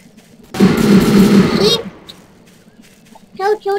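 A gun firing explosive bullets in Garry's Mod lets off a loud, rapid burst lasting just over a second, followed by quieter game noise and a few spoken words.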